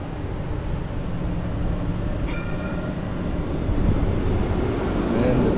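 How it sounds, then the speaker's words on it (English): A Jerusalem tram passes at street level with a broad, steady rumble that swells slightly toward the end, joined by a brief high tonal squeal partway through, amid outdoor city noise. "Famous Jerusalem tram."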